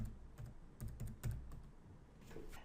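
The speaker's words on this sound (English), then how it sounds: "we'll just type in color options" Typing a comment on a computer keyboard: quick, soft keystrokes in uneven clusters, close but quiet, with no talking.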